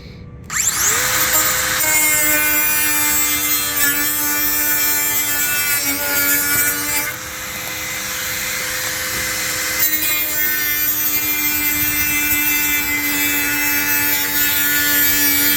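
A power tool trims down a piece that was cut too long, holding a loud, continuous whine that drops briefly midway, then resumes strongly up close.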